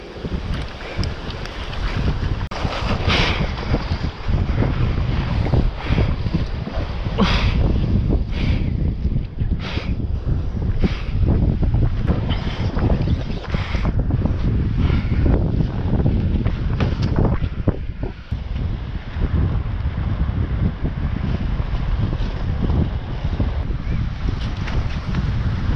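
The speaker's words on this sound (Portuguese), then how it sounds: "Vento fraco, só dá nisso." Light wind blows across the microphone at a beach during a kitesurfing session, a constant rough gusting rush with occasional louder buffets and faint surf behind it, lasting the whole stretch with no clear talk.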